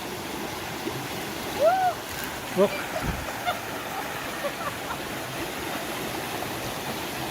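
Creek water flows steadily at a trail crossing of South Zoe Creek, a continuous wash under a brief voice and a couple of faint bird chirps.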